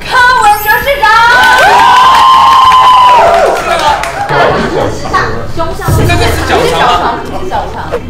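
A studio audience at a Taiwanese TV talk show cheers loudly and excitedly as the Taipei mayor is welcomed. Whoops and crowd noise carry on for several seconds, with voices talking over and through the cheering.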